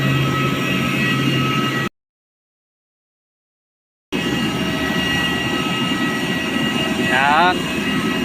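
A steady, loud airplane engine roar fills the space as passengers board, broken by a sudden gap of silence before the drone resumes, with brief voices rising near the end.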